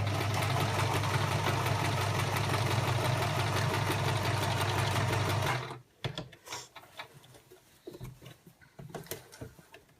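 Loud, steady machine stitching at a long stitch length through a rice-filled fabric heat bag, a continuous whirring run lasting several seconds before it stops abruptly, followed by quieter handling clicks and rustles.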